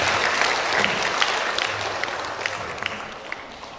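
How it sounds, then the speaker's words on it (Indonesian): Steady applause from a crowd at an Indonesian Golkar party regional congress in Way Kanan, dense clapping that holds at a fairly loud level throughout and tapers only slightly near the end. "Tepuk tangan untuk Pak Bambang."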